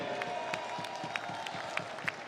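A crowd at a women's basketball game, Hungary against Great Britain, applauds before the national anthems; scattered claps ring out over a distant, murmuring arena.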